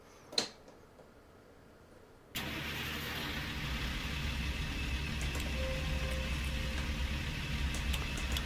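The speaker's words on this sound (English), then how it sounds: "The engine is a Cat 3406E." Cat 3406E diesel engine in a truck in American Truck Simulator: after a click and a quiet pause, the engine cranks and starts abruptly, then settles into a steady, loud, low idle rumble that runs on alone.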